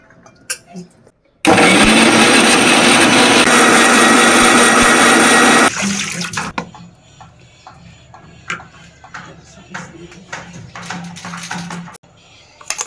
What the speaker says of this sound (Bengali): আমি হালকা ব্লেন্ডার করে নেব